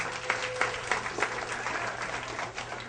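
Comedy club audience applauding in a steady wash of clapping with a few sharper bursts, fairly close and filling the room, no talk over it.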